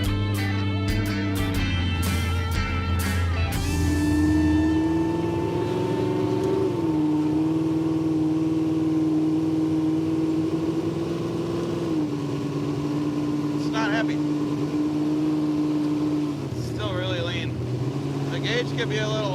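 A barn-find Pontiac Firebird cruises along a highway, its engine holding a steady droning tone with small shifts in pitch, while people talk over it.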